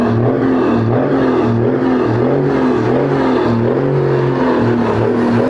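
A diesel engine with mechanical fuel injection runs at a steady, loud, close idle with an even rumbling drone throughout and no voices.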